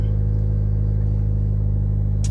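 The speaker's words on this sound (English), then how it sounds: "The car's idling at about 1500 RPMs right now." A car with an aftermarket axleback exhaust, 5-inch muffler and 4-inch tips idles at about 1500 RPM after a cold start, giving a deep, steady, pulsing rumble that holds constant and loud throughout.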